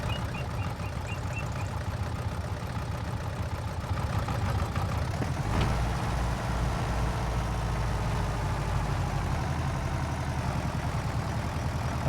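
A tractor engine runs steadily at a working speed, a close, continuous mid-low drone with a rhythmic mechanical chug and a brief clunk near the middle, with no voices.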